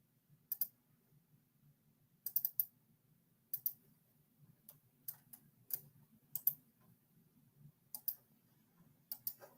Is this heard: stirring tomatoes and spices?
no